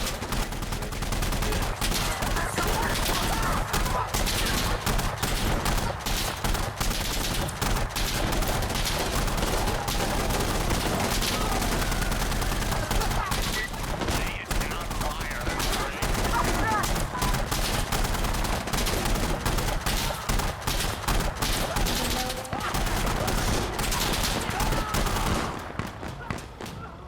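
Gunfire in the shooter game Insurgency: Sandstorm, dense rapid bursts and single shots rattling continuously, fairly faint throughout.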